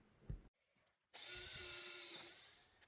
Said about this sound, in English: you can pre-drill and countersink really quickly and then flip around and be driving the fastener in